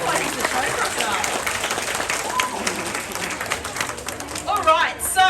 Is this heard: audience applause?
yes